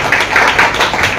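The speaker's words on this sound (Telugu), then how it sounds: "సేవకులు మనం అందరూ కూడా చప్పట్లతో ఆహ్వానిస్తున్నారు" A crowd at a Friday fasting prayer meeting gives a brief, loud round of clapping to welcome a speaker, the claps pulsing in quick overlapping bursts close by.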